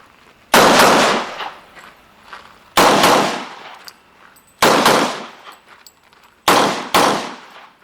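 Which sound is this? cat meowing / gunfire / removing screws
gunfire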